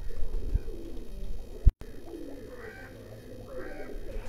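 Pigeons cooing in a loft, soft repeated coos from a couple of birds nearby over low background noise, with a brief knock midway.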